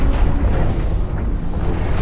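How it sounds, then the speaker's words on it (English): A grenade blast in the mech combat game Hawken rolls out as a continuous low, rumbling boom with no sharp onset, loud and filling the whole moment without any voices. "Oh, I saw a grenade fly at me"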